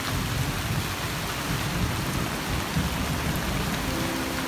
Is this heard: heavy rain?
yes